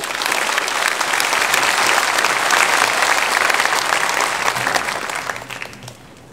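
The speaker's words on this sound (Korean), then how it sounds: "우리 나오실 때 큰 박수로 환영해 드리겠습니다" A church congregation at a Sunday worship service claps loudly and continuously to welcome a visiting pastor to the pulpit, a thick, close wall of applause that swells, holds, then tapers off near the end.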